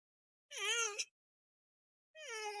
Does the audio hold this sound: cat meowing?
yes